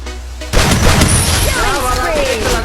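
Gunfire in a shooting video game erupts about half a second in as a loud, dense burst of rapid shots and booms that continues to the end.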